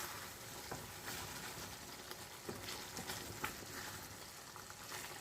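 Foli fish curry gently stirred in a pan, a soft continuous sizzle and bubbling with occasional light scraping taps from the stirring, close and fairly quiet.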